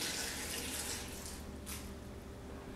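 Water poured into an Alterna blender jar for a smoothie: a steady, hissing splash of liquid that fills the whole moment, faint and close, with no talk over it.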